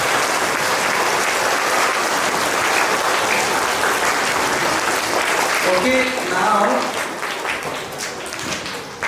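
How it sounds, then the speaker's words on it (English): Students and staff at a school assembly clap together in dense, loud applause that carries on for several seconds before easing off. A speaker's voice comes in briefly near the end. "Come on, give yourself a big clap."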